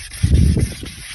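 A rough, abrasive rubbing rasp of a sanding tool working a horse hoof, steady and close, swelling briefly in the middle.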